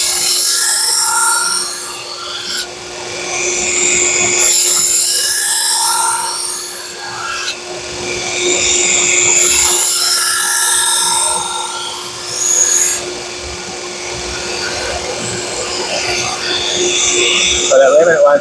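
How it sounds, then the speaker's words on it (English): A Shun Classic chef knife is ground on a powered sharpener being reprofiled and thinned, with a steady high whine and harsh scraping passes that rise and fall over a long stretch, close and loud. "Watch your heat in your sharpener."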